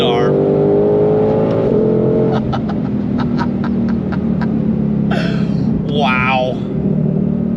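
A Ford Shelby GT500 Mustang (S550) engine rumbles and revs with a deep, steady throbbing close by, while a voice exclaims over it near the end.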